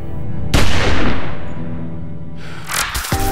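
A loud gunshot in a video game cutscene bursts out with a booming crack and a long decaying echo, followed by a second sharp impact and clatter.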